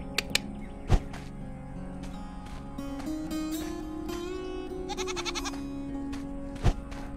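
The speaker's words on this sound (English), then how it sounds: "Hey, goat." A goat in the video game Ylands bleats in repeated wavering calls over a constant ambient game background, with a couple of sharp thunks in between.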